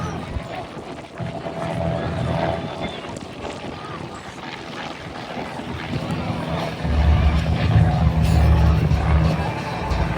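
The Blue Demon aircraft's engine roars as it throttles up for takeoff at an airshow, a steady loud drone that grows louder toward the end, mixed with wind noise while an announcer talks over it.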